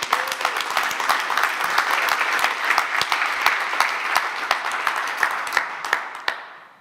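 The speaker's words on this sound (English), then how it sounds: "A big round of applause to our panel speakers." A conference audience at a facade industry summit applauds its panel speakers, a dense, steady wash of many hands clapping close by that holds for several seconds, then thins to a few scattered claps and fades out.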